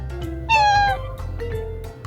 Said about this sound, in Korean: 배고프면 야옹해요